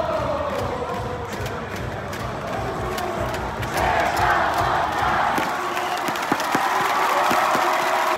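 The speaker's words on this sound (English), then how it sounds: "the whole crowd can follow their team's chant as the lyrics are displayed on the screen" Crowd at a Korean baseball game chanting a team fanchant together, a loud, continuous massed roar of voices with rhythmic shouts, steady throughout and growing brighter and louder partway through.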